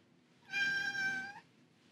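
Long-haired house cat letting out a single drawn-out, clear meow, close and fairly loud in an otherwise quiet room.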